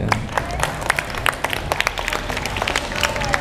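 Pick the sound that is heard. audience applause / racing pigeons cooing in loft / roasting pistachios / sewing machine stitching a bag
audience applause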